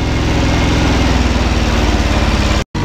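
Small engine of a hay tedder running, a loud, steady, close rumble with a fast regular pulse throughout, cutting out abruptly for a moment near the end.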